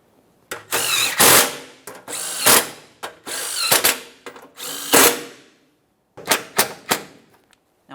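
Power tool driving a mounting bolt into a broken passenger-side shield under a 2014-2018 Mazda 3, loud close bursts of whirring and rattling, about five in a row and then a few shorter hits after a brief pause.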